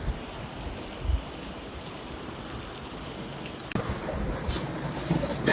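Steady rain falls as a continuous hiss, a few louder patters and drips breaking through now and then, fairly close and without voices.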